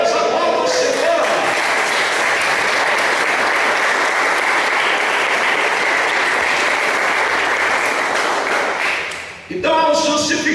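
A church congregation applauds in loud, sustained, dense clapping that fills the room, ending abruptly before a voice returns near the end.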